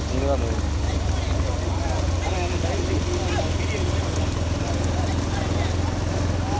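Bulls' hooves pound in a rhythmic clatter during a bullock cart race, mixed into a loud, dense outdoor din with engine rumble and shouting voices throughout.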